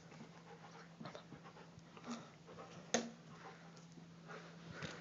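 A large dog pants in quick, steady breaths close by, with a few small knocks and rustles around it and no voices.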